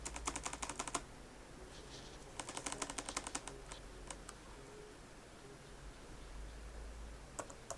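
Quick bursts of clicky keystrokes on a computer keyboard, rattling in short clusters separated by brief pauses, close and fairly faint over a low room hum, with no voices.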